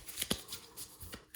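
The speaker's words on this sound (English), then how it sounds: "They want me to shuffle 10 times." A deck of tarot cards is shuffled by hand, giving a quick series of crisp riffling and slapping bursts that sound close and moderately quiet, with no talking.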